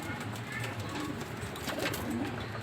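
Racing pigeons coo softly at a derby race loft, low murmuring calls nearly buried in a steady wash of outdoor background noise.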